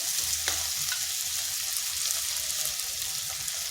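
Ground cumin, coriander and pepper hit hot mustard oil with fried garlic in a wok, giving a close, steady sizzle with a few sharp knocks and stirring scrapes early on, no talking.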